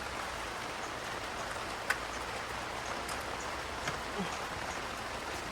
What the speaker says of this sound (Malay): Ni pun hujan lebat, tak boleh buat kerja, makan dulu.